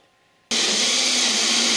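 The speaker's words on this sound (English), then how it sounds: "And now it'll be easier to find the hole in the bottom to up drill to this size." A power drill bores a hole up to size in an Affordaplane airframe part, starting abruptly after a short quiet lead-in and then holding a loud, steady whine close by.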